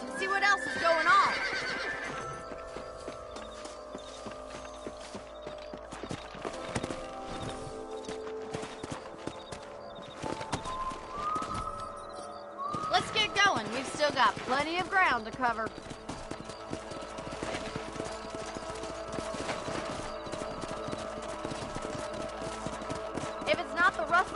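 Horses in Red Dead Redemption on PS4 whinny and neigh while hooves clip-clop in a steady trotting rhythm, close and continuous, with a voice speaking over the ride.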